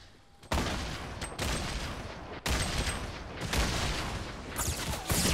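Bursts of enemy gunfire in the video game Fortnite, loud volleys starting abruptly and repeating in clustered salvos with brief pauses between them, no talk over them.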